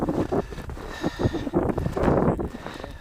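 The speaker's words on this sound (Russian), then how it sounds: "Наверное, ветер опять сильный." Strong wind buffets a microphone outdoors during a snowstorm at a winter fishing spot, a loud, gusty rumble rising and falling unevenly throughout.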